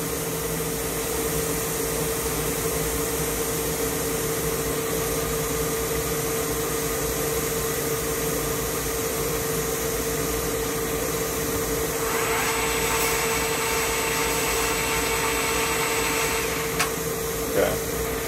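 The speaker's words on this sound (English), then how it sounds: "That's the spindle, and it's spinning here." A Swistek RB20Y CNC Swiss lathe spindle spins steadily, giving a constant machine whir and hum with a tonal whine throughout, plus a brief brighter burst of machining noise near the end.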